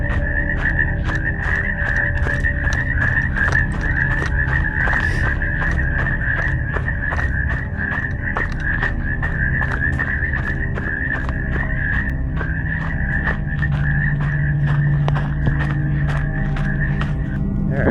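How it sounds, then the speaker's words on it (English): Frogs call at night beside a trail in the Tahoe area, a dense, steady chorus of rapid, shrill repeated notes that carries loudly and continuously with no voices over it. "I'm kind of getting serenaded by the frogs there."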